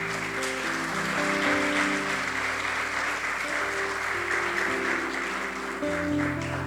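A church congregation applauds steadily and loudly, with sustained music playing underneath the whole time.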